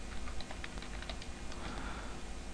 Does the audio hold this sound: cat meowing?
no